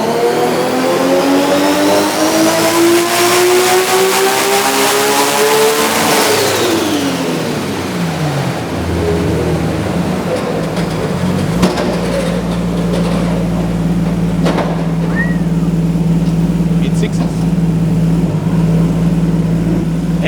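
A Nissan R32 GT-R engine on a dyno revs hard and loud, climbing steadily to the rev limiter. It then falls away into a lower, steady drone with a few brief clunks and no speech.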